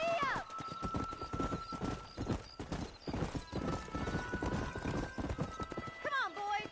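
Horse hooves clip-clopping in a fast, steady galloping rhythm while riding, with whinnies at the start and end and a voice talking over the hoofbeats.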